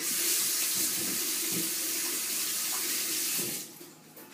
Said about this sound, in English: Just quickly wash the hands a sec.